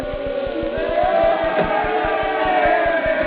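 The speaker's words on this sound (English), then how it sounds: "The crowd, they're yelling something." A crowd yells in a 1937 radio drama about the end of terror in Russia, a dense roar of many voices under a steady, rhythmic low pulse like tolling bells, loud and continuous throughout.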